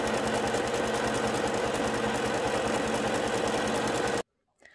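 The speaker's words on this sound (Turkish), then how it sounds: "Zikzak ayarıyla ovarlaklarını da gidiyorum." Sewing machine running steadily while zigzag-stitching the seams of a trouser skirt, a loud, continuous mechanical whir with rapid rhythmic needle chatter that stops abruptly near the end.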